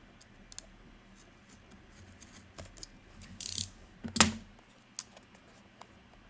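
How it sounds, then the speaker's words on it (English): A Samsung Galaxy A14 5G phone box has its tape cut, giving sparse, close clicks and scrapes, then a short burst of sharp cutting and ripping, followed by a few more light taps. "I'm going to cut this tape right here where I can open it"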